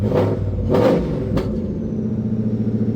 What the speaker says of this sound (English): But she rev up quick now.